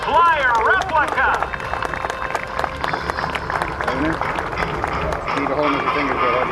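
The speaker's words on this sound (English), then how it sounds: "would you join me in a round of applause for the Wright Flyer Replica?" Crowd applause at the 2013 Dayton airshow for a 1911 Wright B Military Flyer replica, dense clapping and cheering sustained throughout, fairly loud and close, with a voice on the public address mixed in.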